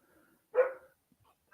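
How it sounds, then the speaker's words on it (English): A dog gives a single sharp bark up close, standing alone amid near silence with only faint scattered noises around it. "He's looking right at me and he's going to bark again."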